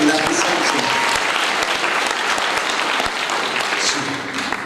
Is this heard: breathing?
no